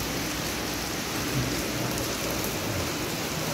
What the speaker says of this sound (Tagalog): Malakas ng ulan.